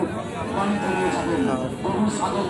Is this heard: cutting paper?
no